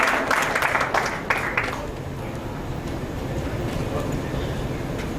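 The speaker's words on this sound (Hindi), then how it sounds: "मातूराम जी के लिए जोरदार तालियां बजाकर उनका अभिनंदन करें" An audience at an award ceremony breaks into brief, bright applause that fades within a couple of seconds, leaving a low steady rumble and faint murmur.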